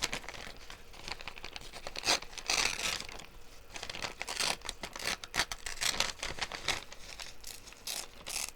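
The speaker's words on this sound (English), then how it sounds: "Let me just tear this one off" Stamped paper is torn by hand in a series of close, crisp rips and crinkles that come in irregular bursts over several seconds, with no talking.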